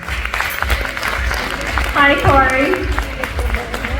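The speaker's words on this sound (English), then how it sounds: "Let's give her another round of applause, everybody" Audience applause at a media launch for an anti-aging product, a moderate round of clapping under a voice greeting someone, with a brief high-pitched vocal exclamation midway.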